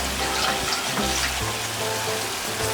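Water is poured into a vessel that held the chicken marinade, a close, steady splashing wash that continues for a few seconds over a low background hum, without any speech.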